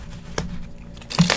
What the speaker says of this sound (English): I got this card. They're hard to shuffle,